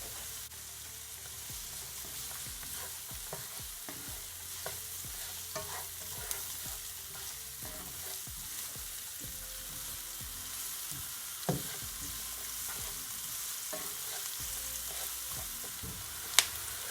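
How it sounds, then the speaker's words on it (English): Ground beef sizzles steadily as it sautés in a pan for taco filling, with a spoon or spatula scraping and stirring at irregular intervals, close and continuous throughout without talk. "You're just gonna allow it to saute, guys, just for for at least 1 minute or so."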